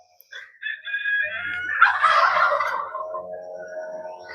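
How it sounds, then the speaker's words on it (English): Turkeys gobble in a loud, close burst of rattling calls that swells and then trails off into softer warbling notes. "The turkeys are hollering."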